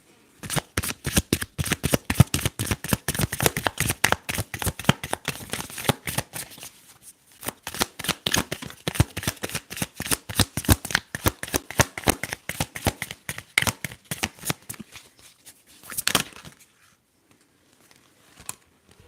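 Tarot cards are shuffled close up in a long steady run of rapid riffling flicks, crisp and rhythmic with a brief pause midway, a final burst, then quiet.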